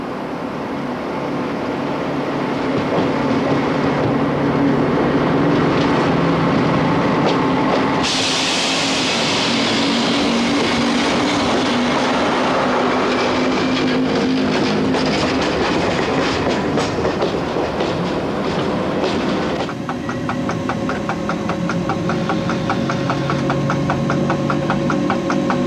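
SNCF CC 6524 electric locomotive pulling out of Paris-Austerlitz with a 552-tonne train: a loud, continuous rumble and traction whine with steady clickety-clack from the wheels, the tone shifting partway as the locomotive gathers speed.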